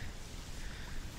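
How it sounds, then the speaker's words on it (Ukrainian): Steady wind rushing and buffeting outdoors on a spring fishing spot, a broad continuous roar with low gusty rumble, no voices. "Вітер дує"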